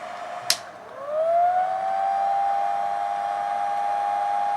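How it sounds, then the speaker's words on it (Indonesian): A damaged, faulty cooling fan in a vibration-test rig starts with a sharp click, then whirs up in pitch into a sustained, siren-like whine that holds steady, with no one talking. "Sekarang kita coba untuk kasus kipas yang rusak."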